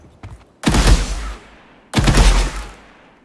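Two loud bursts of rifle fire from a burst rifle in an Unreal Engine 4 game, each a rapid cluster of shots with a booming low tail, separated by a short gap.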